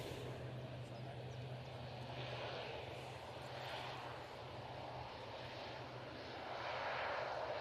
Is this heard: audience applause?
no